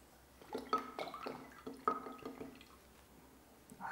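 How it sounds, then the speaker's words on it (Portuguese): Air bubbles glug into a bottle held under water, giving two clusters of gurgling, dripping pops with quiet between them, soft and close, with no talking. "a gente vai perceber um monte de bolhas de ar entrando na garrafa"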